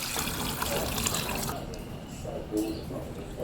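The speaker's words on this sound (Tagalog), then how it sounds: "saka ko naman po inilagay yung tubig." Water pours into a cooking pot while shrimp sinigang is being made, a steady splashing rush up close that eases slightly partway through.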